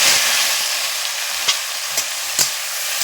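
Taro stolons go into a pan of hot frying spices, giving a loud, close, continuous sizzle broken by a few sharp spoon clicks and scrapes as they are stirred.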